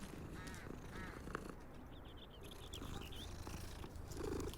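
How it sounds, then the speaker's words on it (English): A cat purrs steadily in the Hogwarts Legacy video game, a soft continuous rumble with faint bird calls and game ambience around it, and no talking. "Oh, there's a cat."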